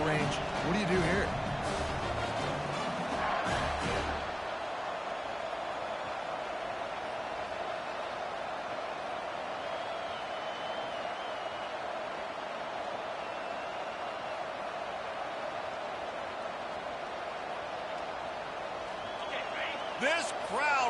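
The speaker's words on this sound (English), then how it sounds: "This crowd busting the decibel meter and trying to will a 4th down stop" A college football stadium crowd, Tennessee versus LSU, roars in a loud, sustained wall of noise on a fourth down, with a brief stretch of commentary voices near the start over the steady din.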